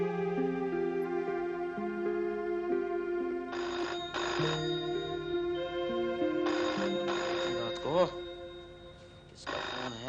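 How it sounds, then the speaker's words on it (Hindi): A telephone rings in a home setting, repeated trilling bell bursts in regular pairs, fairly close and clear, with background music and a voice briefly under it. "किसका फोन है?"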